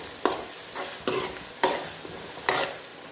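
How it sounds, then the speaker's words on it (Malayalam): Crushed chili being stirred into tomato masala for a mutton liver fry: four distinct scraping strokes of a spoon against the pan, about half a second apart, each with a brief soft sizzle, close and alone. "നമുക്കതിലേക്ക് ചതച്ച മുളക് ഇട്ടത് ചേർത്ത് നല്ലതുപോലെ ഒന്ന് ഇളക്കി കൊടുക്കാം."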